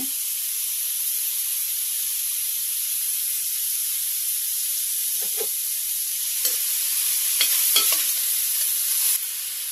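Grated carrots stirred and fried in a pan for carrot payesh, a steady close sizzle throughout with a few scraping stirs of the spoon toward the end.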